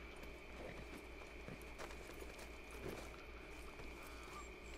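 Horse hooves clip-clop at a steady trot in Red Dead Redemption 2 gameplay, under a constant hum and wind-like ambience, moderately distant.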